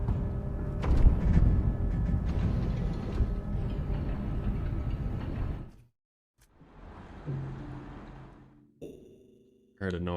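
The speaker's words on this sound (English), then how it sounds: "Heard a noise I'd rather not hear from the printer." A 3D printer mid-job makes loud, rough mechanical grinding and rattling. The noise cuts out abruptly, then a quieter whirring and a few sharp clicks follow, close by and unaccompanied by talk.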